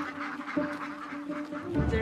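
Ducks quack on a farm flock of about a hundred ducks along with chickens, turkeys and geese, a low, busy murmur of overlapping calls at moderate distance.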